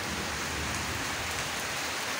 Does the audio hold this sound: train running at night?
no